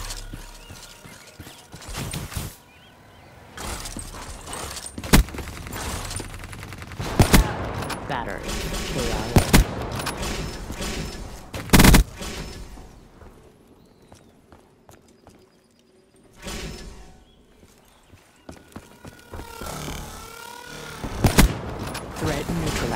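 Hellstorm strike barrage in a video game: several loud, sharp impacts and bursts come at irregular intervals over a busy rattling mechanical background, with occasional game voice lines in between.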